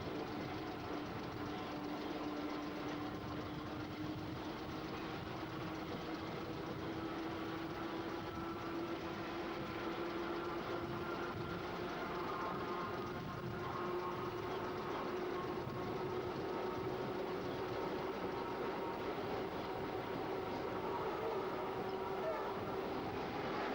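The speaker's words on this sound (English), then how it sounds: "The familiar sight of the red wooden trains with either swing or sliding doors, as well as the more modern Harris Blue trains" Old Melbourne suburban trains, red wooden carriages and Harris Blue sets, run along with a steady rolling rumble and a sustained tonal engine or motor hum, fairly faint and continuous.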